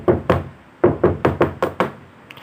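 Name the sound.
knocking on a door from inside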